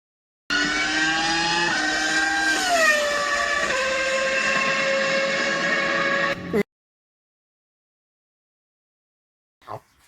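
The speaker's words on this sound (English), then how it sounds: "it's a vintage sports car now, a Vauxhall VX220" A Vauxhall VX220 sports car drives past with a steady, loud engine note whose pitch shifts as it goes by, cutting off abruptly and leaving silence, then a brief faint knock near the end.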